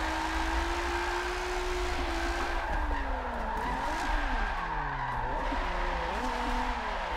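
Tires squeal and skid through a drift run in an SSR Drift racing game, with sliding pitched whines rising and falling over a steady engine roar.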